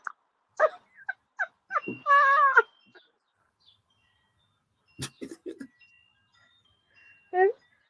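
A cat meowing from a video being played back, several short and drawn-out meows scattered through the stretch, mixed with people talking.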